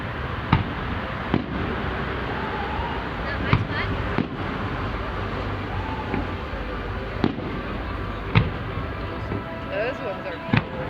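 Fireworks burst at a 2015 display launched from a boat along a road, sharp distant bangs popping every second or two over a constant crowd murmur and background chatter.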